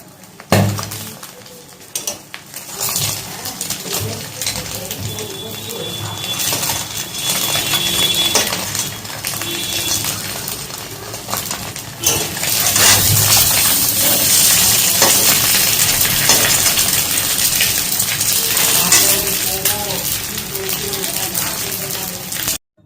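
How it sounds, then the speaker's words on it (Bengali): Eggs frying in salted oil in a kadai for a Bengali egg and potato dish, a dense continuous sizzle with scattered crackles and pops, close and fairly loud, growing busier after the first seconds. "ডিমগুলো তো সব করাতে দিয়ে দিলাম দেওয়ার পরে কিন্তু একটা ফাটার আওয়াজ শুরু হবে"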